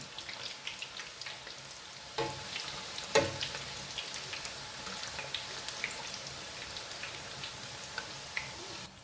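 Samosas deep-frying in very hot oil, a dense steady crackling sizzle with scattered pops and an occasional louder stir or splash, close and continuous.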